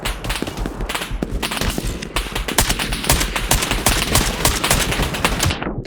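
Dense, rapid gunfire in the video game Operator: Canoe Club, loud bursts of rifle and automatic shots overlapping almost without pause for several seconds, then cutting off abruptly.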